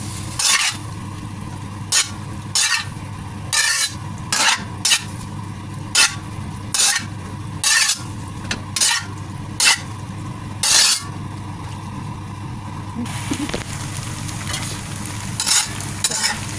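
Marinated udon noodles with shrimp and broccoli being stir-fried, a continuous sizzle under repeated sharp scrapes and clacks of a utensil against the pan, roughly one every second, loud and close.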